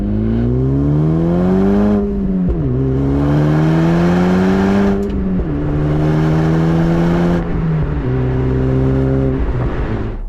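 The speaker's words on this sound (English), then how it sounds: "At the end of the day, this still is a 4-cylinder Honda Civic" A Honda Civic Type-R FL5 four-cylinder engine pulls hard through several gears, each rising drone cut by a quick shift, loud and close from inside the car with no talk.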